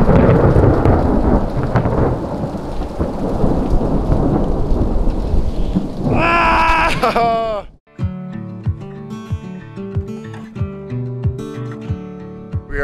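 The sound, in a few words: heavy rain and hail with thunder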